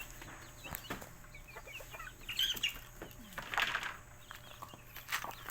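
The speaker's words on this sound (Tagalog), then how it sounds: "Yan yung ating mga inahin." Hens on a Filipino backyard farm cluck and chirp in short scattered bursts, several birds close by with sharper calls rising now and then over a quiet outdoor background.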